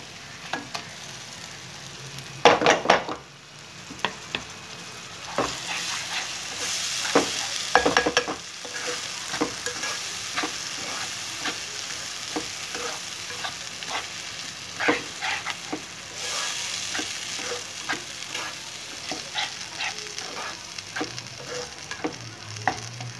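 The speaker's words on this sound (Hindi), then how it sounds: "अब मैं इसमें डालूँगी टमाटर, और जो मैंने लाइट ब्राउन करके रखा था, प्याज रखी थी, वो मैं डाल रही हूँ।" Tomatoes and lightly browned onions sizzle in a pan for an egg curry, with a steady hiss and repeated scraping stirs, a cluster of heavier knocks early on, and no talking.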